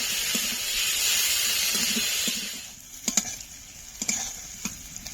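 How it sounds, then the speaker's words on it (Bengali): Chopped onions sizzle and hiss steadily in a pan for chicken curry for a few seconds, then the frying quiets and a few sharp stirring clinks and scrapes of a spoon against the pan follow. "এবার পেঁয়াজগুলো লাল লাল করে ভেজে নেব"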